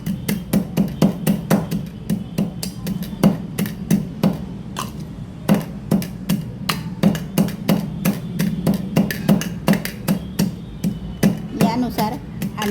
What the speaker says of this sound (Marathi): मिक्स करून चांगलं ठेचून घेऊया.